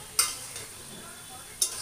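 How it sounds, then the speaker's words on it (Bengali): Meat is sautéed in a pan with a steady, moderate sizzle, broken by two sharp scraping clicks from a spatula or spoon stirring the pieces. "আর এদিকে আমি মাংসগুলো কষিয়ে নিচ্ছি"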